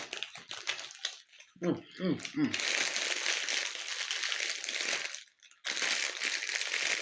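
An empty snack bag being crinkled and crushed by hand, loud crackling bursts with brief pauses, close up, with short spoken words mixed in.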